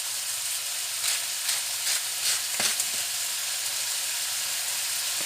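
Pork chop stew with garlic and parsley sizzling steadily in a pot, with a few soft scraping stirs over the continuous frying hiss.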